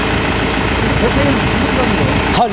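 Tractor engine idling steadily after installation, a loud continuous rumbling drone close by, with people talking over it.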